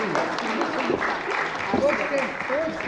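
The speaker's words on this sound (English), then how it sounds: "Please join me in giving them a big round of applause." A conference audience applauds in a steady wash of clapping while voices talk over it in the foreground.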